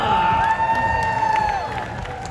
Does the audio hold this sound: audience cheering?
yes